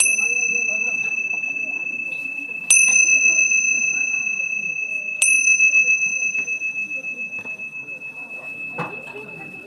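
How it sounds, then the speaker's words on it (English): A meditation bell struck three times at even intervals, each strike a clear, sustained ringing tone that slowly fades, with faint quiet talk in the background. "So the first is the 3 ring of the bell."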